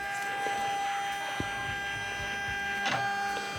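A Poolin EO embroidery machine cuts appliqué, a steady electric hum with whirring motor tones and a few soft mechanical clicks and knocks, close and moderately loud.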